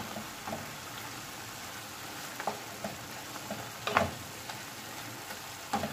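Chicken and noodles stirred in a hot pan, a soft steady sizzle broken by scattered clicks and scrapes of the utensil.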